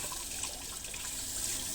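Tap water runs steadily into a sink to rinse shaving soap away after a wet shave, a continuous close hiss and splash that holds at an even level for the whole stretch with no talking.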